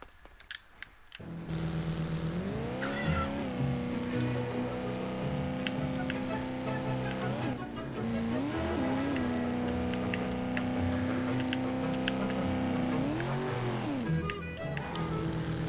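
A car driving on a track in the Disney Infinity game, a continuous engine drone that rises and falls in pitch with several revving swells over a steady loud bed of noise.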